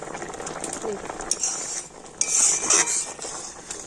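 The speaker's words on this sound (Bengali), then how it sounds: "আর এখন আমি দুটো একটা আম একটু এইভাবে ঘেটে দিচ্ছি" A spoon or spatula scrapes and clinks in a cooking pan while boiled raw mango is mashed, with soft stirring and occasional metallic taps close by.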